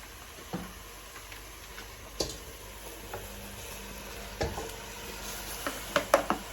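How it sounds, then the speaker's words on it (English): Meat goes into a hot frying pot of rice at home, giving a faint sizzle with scattered clicks and scrapes and a few sharper knocks near the end, quiet and close. "We're gonna add meat to it now, meat to the pot."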